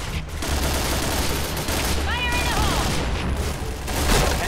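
AUG rifle fire in the shooter game Point Blank sounds as a dense, continuous rattle of rapid shots with a metallic ring, loud and close, over steady background game noise.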